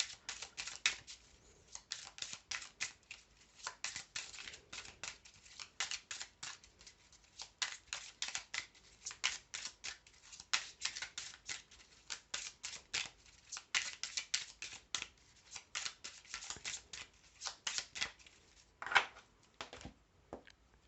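Tarot cards are shuffled and cut by hand, soft rapid riffles and flicks in irregular bursts, close and quiet, running on for about twenty seconds.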